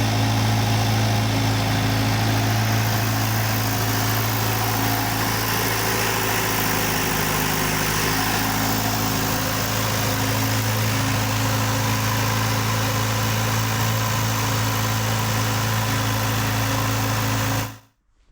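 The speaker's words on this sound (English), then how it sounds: "start the engine, make sure that it runs good." Car engine idling steadily ahead of an engine swap: a continuous, loud, close-up rumble with a constant low hum and vibration that holds for about eighteen seconds and then cuts off abruptly, with no talking.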